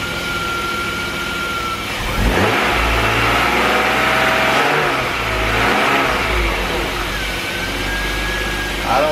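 A BMW S52 engine in an E34, freshly back together after a Vanos rebuild, idles close by and then revs up twice in moderate blips before dropping back to a steady idle.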